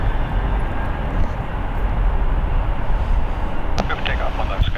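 A SkyWest airliner takes off at San Francisco International Airport, its steady, loud broadband jet roar filling the scene throughout, with a brief higher whine near the end.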